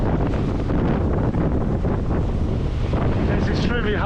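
Strong wind gusting on Maroubra Beach in windy conditions while surf fishing, a loud, steady broadband roar buffeting the microphone throughout, with surf and moving water beneath it.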